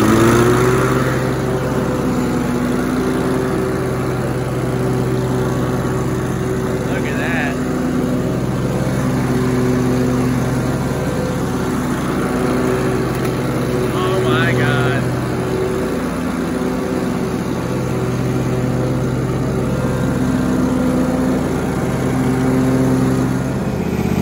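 A Cub Cadet riding lawn mower with a Kawasaki 15 HP engine runs steadily nearby, a continuous droning hum with a few faint clanks over it.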